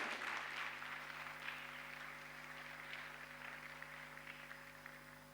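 A church congregation applauds during a French-language Sunday service, giving a steady, even patter of many hands clapping that sounds distant and faint and fades slightly toward the end.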